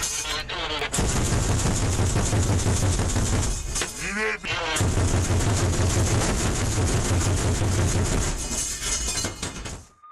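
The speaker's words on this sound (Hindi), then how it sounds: "किस तरीके से BTR-82A से गोलियां बरसाई गई है" Rapid bursts of heavy gunfire from a Russian BTR-82A armoured vehicle on a street in Marinka, loud and near, with sustained automatic fire and brief pauses, plus faint voices at times.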